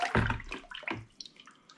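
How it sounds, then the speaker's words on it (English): Mango and ginger cider stirred in a home-brewing vessel, giving short close sloshing and swirling splashes of liquid that settle into faint trickles, with no talk. "I want to give this a good stir around."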